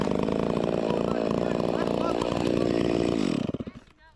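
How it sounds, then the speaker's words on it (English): A chainsaw cuts low through a tree stump, its engine revving loud and rough at full throttle for about three seconds, then dropping quickly to a sputtering idle. "I want to cut it just a little bit above so I ain't having no problems with my chainsaw"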